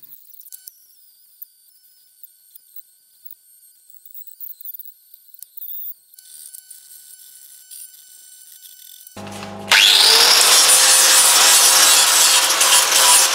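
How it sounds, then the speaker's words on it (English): A hand file rasps against metal in a series of steady, scratchy strokes that begin loud and close after a quiet stretch of faint tapping and clicks. "And lastly I just finish it off with a hand file itself."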